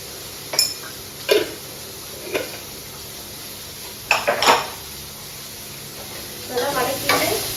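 Shallots, garlic, tomato and tamarind sautéing in a pan at home, with intermittent stirring scrapes and spoon clinks against the metal over a low steady sizzle; the louder stirring strokes come in short separate bursts.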